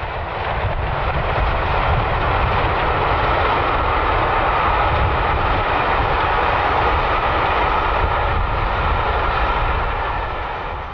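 A double-headed steam train with locomotives Blackmore Vale and 92 Squadron rumbles past on the mainline. The roar is loud, dense and continuous, with no separate chuffs standing out.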